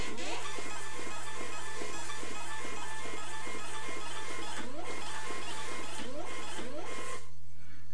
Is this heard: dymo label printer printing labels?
yes